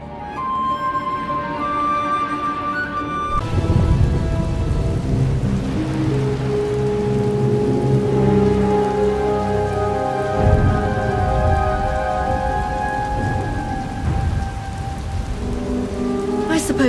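A heavy rainstorm in the video game Star Wars: The Old Republic, steady loud rain on surfaces with low rolling thunder rumbles building through the scene, no one speaking.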